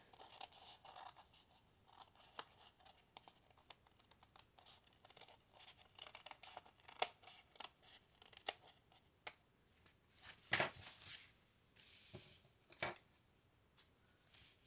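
Scissors trim paper for a scrapbook layout, a soft, faint sequence of snips and paper scrapes with one sharper cut near the end, quiet and close with no talking.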